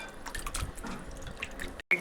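Raw chicken pieces are washed under running tap water, giving irregular splashes and drips that clatter over a light trickle and break off briefly near the end.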